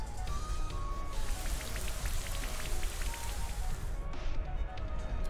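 Rain from the Rain Dance move in a Pokémon battle game patters steadily and fairly close, a dense hiss of drops with scattered brighter hits and a brief shift near the end.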